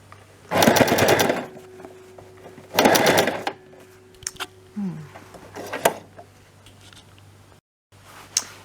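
A Toyota Jeans domestic sewing machine stitches in two loud, rapid bursts of about a second each, followed by scattered clicks and small mechanical knocks as the fabric is handled.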